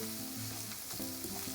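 Spices stirred and fried for a vegetable cutlet, giving a continuous soft, hissing sizzle with quiet stirring, while a steady tonal hum or music plays underneath.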